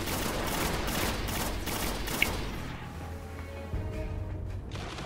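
Rapid bursts of gunfire in the video game Destiny rattle out in dense volleys for about two seconds, then thin into scattered, quieter shots and ambient game noise.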